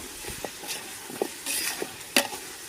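A spoon stirs sautéed biryani masala in a pan, making soft scraping strokes over a faint sizzle at close range, with no talking.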